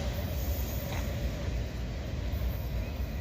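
A freight train rolls by in Abbeville, a continuous loud rumble of wheels on rail close at hand with a brief faint squeal partway through.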